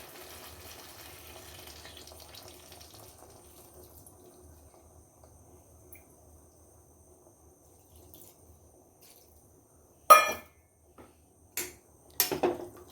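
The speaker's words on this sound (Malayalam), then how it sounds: "ഇനി അതിലേക്ക് ആവശ്യത്തിന് വെള്ളം ഒഴിച്ചു കൊടുക്കാം." Water poured into a lemon pickle mixture of chopped lemons, arriving as a few short splashing bursts near the end after a long, quiet stretch of faint background.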